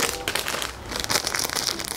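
Someone handles a small transparent plastic gift bag at close range, producing a steady run of soft crinkling and rustling with no voices over it.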